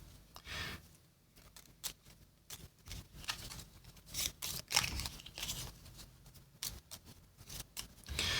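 Quiet riffling and snapping of a deck of board game cards from Dragon Eclipse being shuffled in quick repeated bursts, close by, with no voices.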